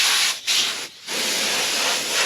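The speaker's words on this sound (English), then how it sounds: "But we're going to blow all the lint off." Compressed air blasts lint off a plastic car bumper in a loud, continuous hiss, broken by two brief gaps where the nozzle cuts out before it resumes.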